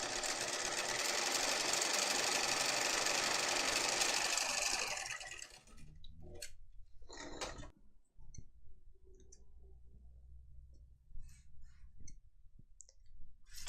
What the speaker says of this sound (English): And we will just stitch across here to close it.